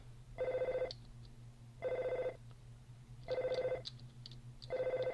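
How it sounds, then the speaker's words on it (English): Video game telephone ringing in Earthbound, four repeated electronic ring bursts with short gaps between them, clear and steady over a low hum of background music. "Okay, I hear the phone."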